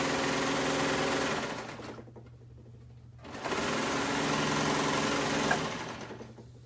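A sewing machine stitches a knit seam for underwear, running fast and steady up close, pausing for about a second, then whirring on again.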